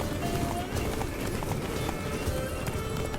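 Hooves of Geralt's horse Roach pound in a fast gallop in The Witcher 3, a continuous drumming rhythm close up, with a voice speaking over it.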